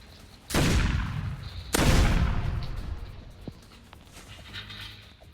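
Plasma pistol fire in the shooter game Hypershot: two loud, booming blasts about a second apart, each trailing off in a long decay, followed by faint clicks and scattered game sounds.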